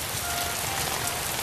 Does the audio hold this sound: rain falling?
yes